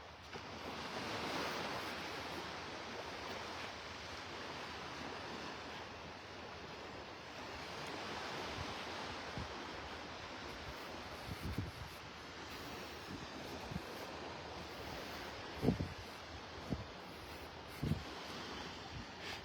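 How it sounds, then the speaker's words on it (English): Gentle waves lapping at the shore of Delnor-Wiggins beach in North Naples, a soft continuous wash of surf with light wind, faint and steady, with a few small louder splashes or knocks near the end. "The water's just kind of lapping over them."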